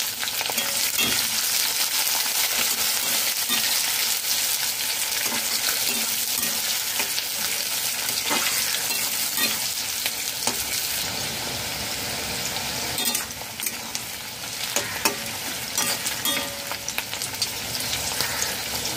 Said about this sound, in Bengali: দু মিনিট ভেজে নিয়েছি।